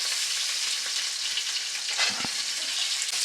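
Steady, bright sizzling of small shallots frying in hot oil for a spicy chicken curry, continuous and close, with a brief stir or clatter near the end.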